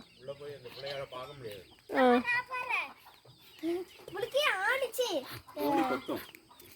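A hen that has been brooding duck eggs clucks and squawks in short bursts at close range, alongside a voice and other speech.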